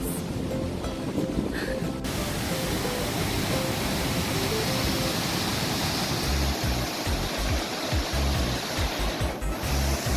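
A waterfall on a hiking trail in Payson, Arizona, roars as a loud, continuous broadband rush of falling water that fills the whole clip, with a few brief low bumps near the microphone.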